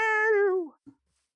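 A single clear cat meow, drawn out with a falling tail, then a tiny soft chirp, heard alone in Minecraft.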